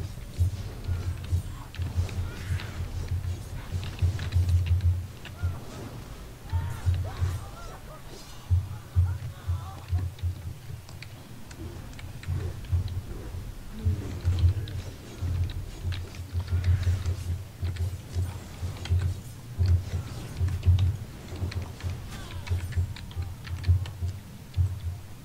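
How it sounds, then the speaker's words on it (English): Computer keyboard typing during an online gaming session, quick irregular bursts of clicking keys up close, continuing in steady runs with short pauses across the whole stretch. "I can hear you fighting away on the keyboard."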